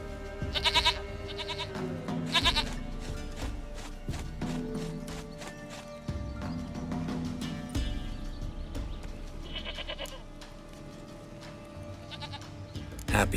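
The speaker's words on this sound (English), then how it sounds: "Goat of mine, dearest, sweetest goat." A goat in The Witcher 3: Wild Hunt bleats in a few short, nasal bursts over a quiet game soundscape of faint ambient tones and hoof-like clops.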